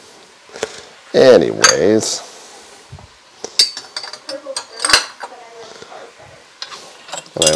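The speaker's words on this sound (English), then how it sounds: "I hate dishes so much that I usually do them as I'm cooking" Dishes, pots and cutlery clatter and clink in a home kitchen while cooking, with bursts of scraping and knocking spread through the clip beneath a person talking.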